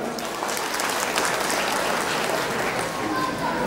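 Guests at a Vietnamese bride's-family wedding ceremony give a steady round of applause, a continuous wash of clapping that holds at an even level throughout.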